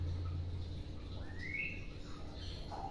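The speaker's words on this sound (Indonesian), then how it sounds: "Jadi inilah burung beo Becky, burung beo yang sudah banyak bisa ngomong, bisa salam" Myna bird (talking mynah) calling indoors, a few short chirps and whistled squawks rising and falling over a low steady background hum, fairly faint and with no human voice.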